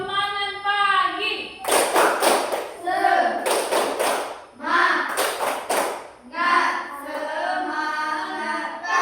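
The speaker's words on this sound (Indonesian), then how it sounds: "Tepuk semangat pagi." A school class performs the "tepuk semangat pagi" clapping ice-breaker, with bursts of sharp, loud group claps and thumps alternating with children and a teacher chanting and talking between them.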